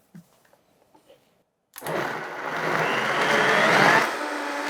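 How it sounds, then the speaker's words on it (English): After a brief quiet stretch with soft clinks, a blender puréeing corn with lime juice roars to life and whirs steadily and loudly. "let's blend that up"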